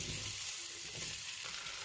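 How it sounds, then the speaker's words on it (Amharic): Potatoes frying in hot oil in a pan, a constant close hiss and crackle of sizzling with faint stirring, heard alone without speech. "ዘይቱ በደንብ ጋል ሲል ድንቹን እንጨምራለን።"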